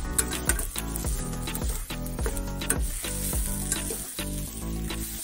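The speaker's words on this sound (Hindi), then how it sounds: "अब इसे अच्छे से मिक्स कर लेंगे।" Hand-mashed potatoes for vada pav are stirred into a sizzling pan, giving a continuous frying hiss with rhythmic scraping strokes over loud background music.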